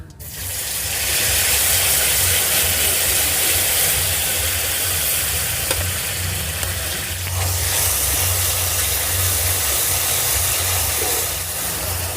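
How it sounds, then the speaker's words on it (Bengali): Ground spice paste, stone-ground very fine, frying in hot oil for a paneer curry, giving a loud continuous close sizzle and crackle with no voices. "মশলাটা আমি কিছুটা সময় ধরে ভেজে নেবো"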